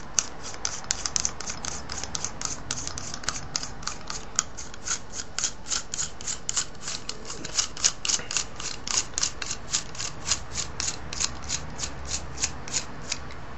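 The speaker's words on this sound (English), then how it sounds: "I'm going to unscrew the telescopic piece all the way out too." A telescopic piece being screwed all the way out gives a long, even run of fine ratcheting clicks, close and steady, with no talking.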